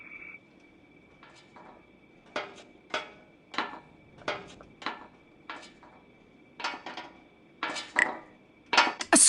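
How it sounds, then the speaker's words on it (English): Irregular metallic clinks and knocks rattle in a locked dark room in the Frequency Missing video game, a series of short taps growing louder and more clustered toward the end. "I hear some rattling."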